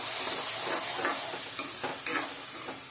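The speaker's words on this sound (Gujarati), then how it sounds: "ટમેટાની પ્યુરી, એને પણ આપણે થોડી ચલાવી લઈશું।" Tomato puree frying in oil for a Gujarati whole-potato sabji is stirred in the pan, giving a continuous close sizzle with rhythmic scraping strokes of the spoon.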